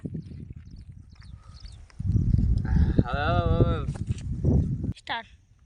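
Water buffaloes on a dairy farm give a long, loud bellowing moo near the middle, with rustling, movement and farm noise around it and brief voices before and after.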